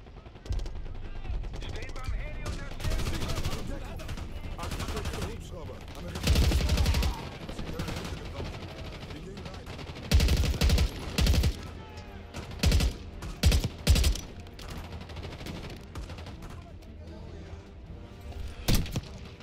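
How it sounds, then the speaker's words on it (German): Bursts of automatic gunfire and scattered shots crackle repeatedly from the Call of Duty: Black Ops 6 campaign, loud and close, with voices and battle noise underneath throughout. "Ich höre Schüsse von rechts."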